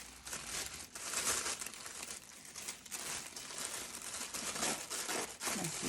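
Tissue paper wrapped around skeins of Kraemer yarn crinkles and rustles as hands peel it open, a close, soft, continuous crumpling with small bursts of tearing and no talking.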